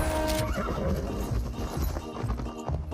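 Horse neighs and clip-clopping hooves from the survival battle royale video game Mission Evo, loud and close, with a whinny at the start and steady hoofbeats running throughout, mixed with busy game sound.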